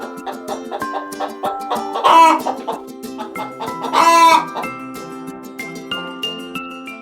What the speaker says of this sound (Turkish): Bu bir tavuk.